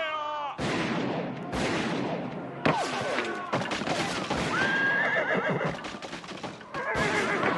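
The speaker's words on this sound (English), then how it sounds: "Look at the poor horse, Jack." A horse neighs amid a staged battle scene in an Irish radio play, shrill whinnies over a dense, noisy backdrop of commotion, clattering and crowd sounds, with voices shouting faintly in the mix.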